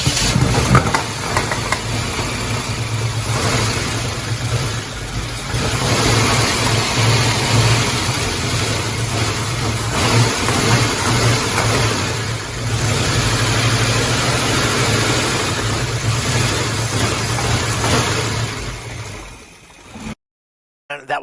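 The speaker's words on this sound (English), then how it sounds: "that was something else to hear this car start up for the first time in 25 plus years" A Pontiac Firebird engine, unstarted since about 1995, turns over and catches, then runs roughly with uneven revving and knocking, loud and close, before cutting off near the end.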